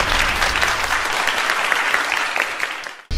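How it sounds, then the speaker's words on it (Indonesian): An audience applauds a woman's prayer at a Catholic gathering at a seminary: dense, steady clapping from a crowd, loud and continuous for about three seconds before cutting off abruptly. "tepuk tangan untuk Maria ya"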